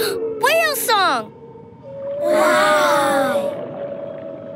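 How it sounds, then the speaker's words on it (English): Humpback whale song: long, loud, swooping moans and rising-falling cries, one sweeping call and then a longer warbling phrase over a steady tone, played alone without talk. "Whale song!"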